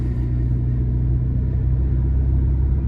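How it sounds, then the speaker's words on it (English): An Alfa Romeo Giulia with an AFE muffler delete, its engine still a little cold on a night drive, gives a steady, deep exhaust rumble up close for about three seconds, with no talking. "that AFE muffler delete, man, it just really wakes up this Giulia"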